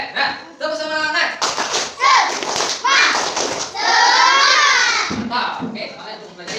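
A classroom of schoolchildren claps a rhythmic spirit clap (tepuk semangat) together, loud, close and patterned, mixed with children's chanting voices.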